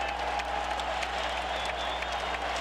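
Arena crowd in Philadelphia on its feet during the 2001 Eastern Conference Finals Game 7, 76ers hosting the Bucks, with loud, sustained cheering and roaring applause filling the whole stretch with no break.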